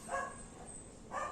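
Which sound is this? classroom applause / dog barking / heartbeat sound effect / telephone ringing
dog barking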